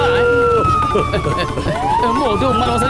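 A police siren wails in the Motu Patlu cartoon, loud and close with rising and falling electronic tones that fill the whole moment.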